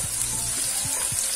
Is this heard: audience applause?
no